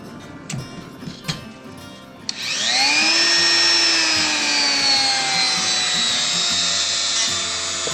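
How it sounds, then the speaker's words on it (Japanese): After a few clicks and handling noises, a high-speed rotary router spins up with a rising whine and holds a loud, steady high-pitched scream while melting and widening a hole in a plastic RC car part. "このルーター結構活躍の場が広いんでよく使います。"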